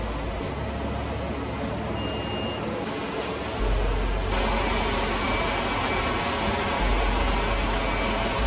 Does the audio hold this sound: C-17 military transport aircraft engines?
yes